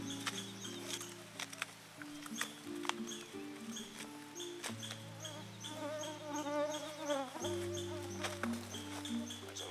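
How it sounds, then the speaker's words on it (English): Mosquitoes and other insects buzz and whine close by in a boreal forest, thin persistent drones weaving through layered tonal hums and occasional soft taps. "There's a lot of mosquitoes here."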